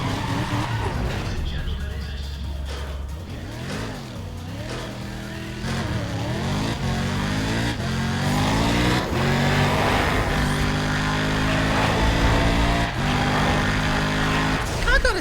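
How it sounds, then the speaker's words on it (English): A race car with a sequential gearbox in Need for Speed ProStreet revs hard, its engine pitch climbing and dropping with each quick gear change, loud and continuous throughout. "Sounds like a sequential gearbox when you think about it."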